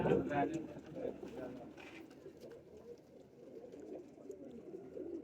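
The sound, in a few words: pigeons cooing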